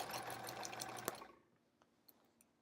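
A sewing machine with a walking foot runs in a fast, steady whir while quilting, then stops abruptly, leaving faint clicks and quiet room sound.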